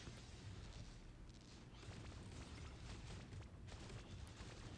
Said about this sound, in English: a particle cannon, let's see how it goes.